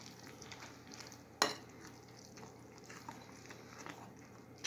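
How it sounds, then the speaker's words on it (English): Pineapple pie filling being stirred in a pot, a soft continuous bubbling and sizzling with faint spoon scrapes and one sharp clink near the start, quiet and close, no speech. "Now, stir it up real good."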